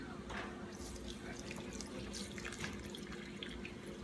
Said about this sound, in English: Now, I'm going to go ahead and add my water.